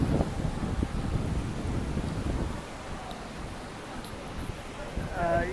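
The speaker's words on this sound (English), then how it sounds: "the winds come up and they come up with these huge gusts" Typhoon Haima drives gusting wind and rain across Victoria Harbour in Hong Kong, a rough, blustery roar buffeting the microphone with a brief voice near the end.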